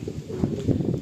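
A Madrasi breeder pigeon cooing nearby, soft low throaty coos in a short burst with faint handling noise.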